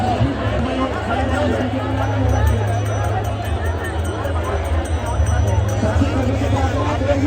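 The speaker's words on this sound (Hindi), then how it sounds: "देखो भाई भीड़ देखो" A dense crowd murmurs and chatters at Keli Kunj in Vrindavan, a steady, close hubbub of many voices with a low rumble beneath and someone talking over it.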